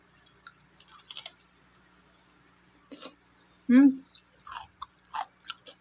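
Crunchy young ginger is chewed close to the mic, with scattered wet crunches and bites that come and go among short pauses and a brief vocal sound.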